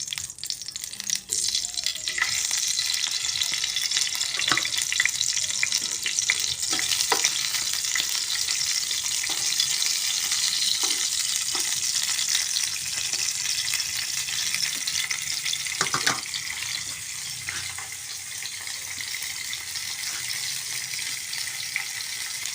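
Food frying in hot cooking oil, a loud continuous crackling sizzle with occasional clicks and scrapes of stirring, no voices.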